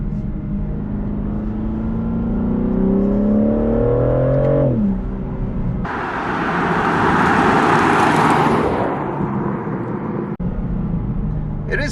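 A BMW G82 M4 with the S58 engine pulls hard with the gearbox in its most aggressive S3 mode, a loud close engine drone rising through the revs, cutting at a sharp gear change, then climbing again with a roaring rush.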